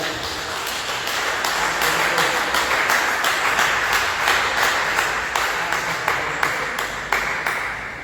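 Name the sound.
church congregation applauding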